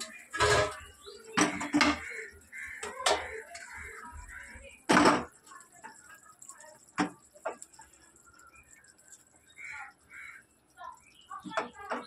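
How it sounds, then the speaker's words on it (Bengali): Pieces of fish slipped one by one into a pot of simmering curry, giving sharp splashing clatters against the pot among soft bubbling, with people talking around the kitchen between the drops. "এবার আস্তে আস্তে মাছগুলো ছেড়ে দেবো।"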